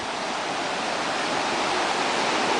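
Broad, steady rush of river water flowing close by, a continuous loud hiss and roar with no pauses and no voices over it.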